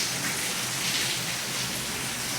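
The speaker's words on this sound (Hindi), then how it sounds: "बारिश ना ऐसे ही बरस रही, कमरों में कोई आ रहा सारा पानी" Heavy rain falls steadily outside a house, a dense even hiss of drops on surfaces heard from indoors without a break.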